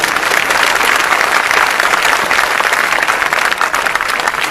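Sustained, dense audience applause fills a speech gathering marking Jhang Day, loud and steady throughout with no voices over it.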